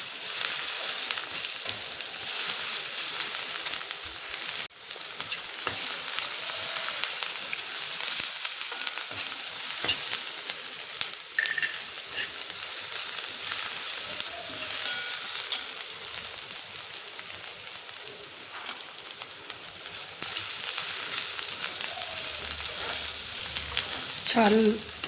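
Onion frying in oil in a home kitchen pan for a Marathi vegetable dish, a steady bright sizzle with occasional scraping stirs, close and continuous throughout.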